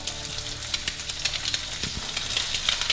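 Two fish fillets fry in butter and olive oil in a pan, a steady broadband sizzle with soft crackles and small pops throughout, close and moderately loud, with no one talking.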